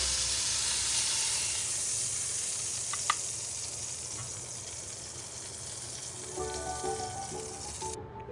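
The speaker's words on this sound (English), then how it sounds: "you can't forget to sear the sides" Meat sears in a hot pan with a continuous loud hiss and sizzle, close up, a brief tap near the middle and fainter clinks toward the end before it cuts off.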